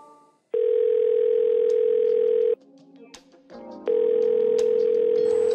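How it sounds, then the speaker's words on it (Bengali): Telephone ringback tone on an outgoing mobile call: two long, loud, steady tones about two seconds each, separated by a quiet gap, with no talk over them. "পকেট থেকে মোবাইল বের করে বউকে কল দিলেন ফয়সাল সাহেব"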